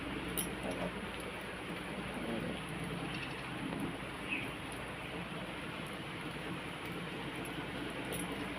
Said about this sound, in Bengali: দেখো বাইরে হচ্ছে বৃষ্টি